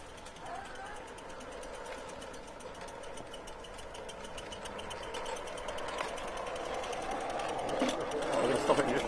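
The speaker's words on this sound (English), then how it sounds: "Yes, it's quite a powerful engine actually." A powerful engine, part of a steam-related setup with water being checked, runs steadily with a dense mechanical chatter that grows slightly louder toward the end.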